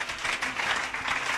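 Applause from the congregation at a church service during a prophetic demonstration, with dense, steady clapping that stays loud and close for the whole short burst.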